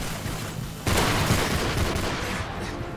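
Gunfire in a Modern Warfare 3 Spec Ops mission: a dense burst of rapid shots kicks in suddenly and continues as a loud, sustained rattle of automatic fire and impacts.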